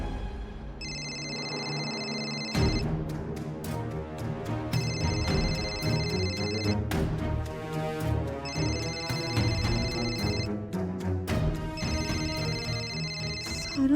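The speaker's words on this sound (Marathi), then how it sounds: "सारंग सरांचा फोन" A mobile phone rings with an incoming call in a Marathi TV drama scene: a bright, melodic ringtone repeats in loops of a few seconds over a steady, fairly loud bed of music-like tones.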